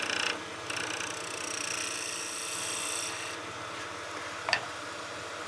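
Wood lathe turning tool gliding across a German smoker figure and taking a fine shaving, a continuous rough scraping hiss over the steady hum of the spinning lathe.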